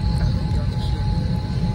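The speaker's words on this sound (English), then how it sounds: "I am on a plane" Steady low rumbling drone of an airplane cabin in flight on a first plane ride, constant and close, with a faint high hiss on top.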